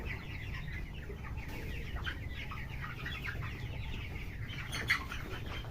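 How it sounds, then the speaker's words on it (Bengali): Faint chicken clucking and a brief flutter of wings come through steady background noise as a chicken is caught for weighing on a poultry farm, with no clear talk. "আমার ভাগনা একটা বড় দেখে একটা মুরগি ধরছে"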